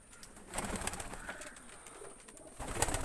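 Pigeons coo softly in a few short, repeated calls, fairly close, with a quiet background and no speech.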